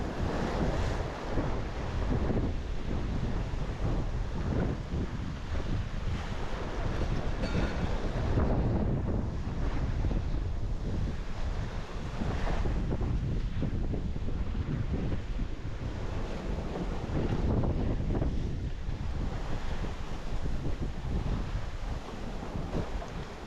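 Ocean waves and strong wind roar continuously throughout a rough sailing passage, with heavy wind noise buffeting the microphone and surf churning alongside the boat.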